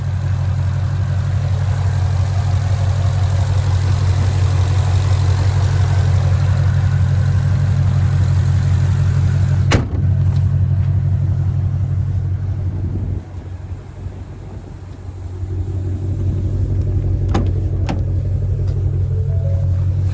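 The 5.2-liter supercharged V8 of a 2020 Shelby GT500 idles with a loud, deep, steady rumble throughout, with a couple of sharp clicks and a brief dip before the engine note swells again.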